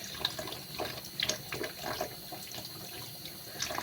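Mushrooms (sarcoscypha) being scrubbed with a new sponge under a running kitchen tap to wash off soil, steady splashing water with soft rubbing and scrubbing bursts, close and fairly loud.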